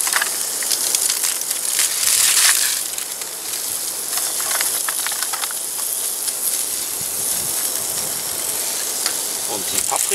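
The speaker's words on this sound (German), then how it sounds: "Ich gebe schon mal die Zwiebel hinzu." Onions fry in a pan greased with bacon. They give a loud, continuous sizzle with crackles and stirring scrapes, and no one speaks.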